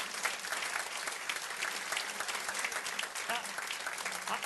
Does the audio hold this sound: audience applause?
yes